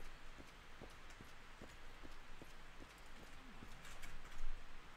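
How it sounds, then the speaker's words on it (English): Steady rain hiss falls in the video game Morrowind, a dense, even wash with faint intermittent ticks, continuous for the whole stretch and swelling slightly near the end, with no talk. "This rain is nuts."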